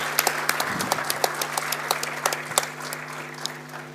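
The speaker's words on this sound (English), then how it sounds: "I would request everybody to please give a round of applause" Audience applause at an annual general body meeting's valedictory session, a steady round of clapping with distinct sharp claps popping out over a constant low hum, fairly close and filling the room.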